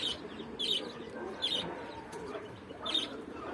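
A pet budgerigar calls loudly indoors in a series of sharp, shrill chirps at regular intervals, each burst brief, over a low background hum.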